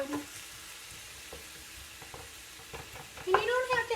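Ground meat for taco pasta frying in a pan and broken up with a spoon, a soft sizzle under scraping spoon strokes, with a voice speaking briefly near the end.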